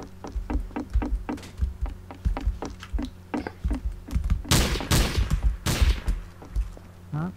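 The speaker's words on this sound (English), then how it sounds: "Stop shooting at me." Gunfire in a video game: a rapid run of light, evenly spaced shots, then heavier bursts and louder blasts near the end, over a steady low background hum, with no talking.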